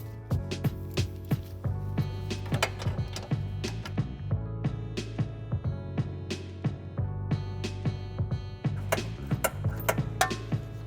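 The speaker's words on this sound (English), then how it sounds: "Remove 1 10mm bolt securing the bottom bracket of the headlight" Wrench loosening a 10mm bolt on the lower headlight bracket of a 2015-2019 Chevrolet Silverado behind the peeled-back wheel liner: faint, repeated light metallic ticks and clicks at an uneven pace over a low steady hum.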